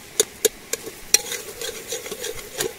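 Gravy stirred in a pot over an outdoor fire in a jungle clearing for biryani, with several sharp scraping clacks of a spoon against the pot over a steady bubbling sizzle, close and moderately loud, no talk.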